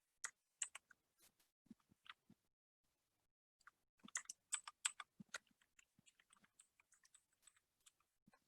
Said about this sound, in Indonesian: ketahuan malas ngetik